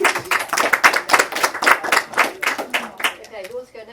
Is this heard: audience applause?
yes